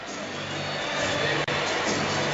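Buffalo Bandits home fans at an indoor lacrosse arena cheer a goal, a broad crowd roar swelling slightly across the moment with commentary talk over it.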